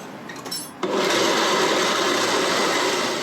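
Soaked cashew nuts and other ingredients for a vegan alfredo sauce are whirred in a blender: a brief rattle, then a loud, steady, close grinding roar that holds to the end.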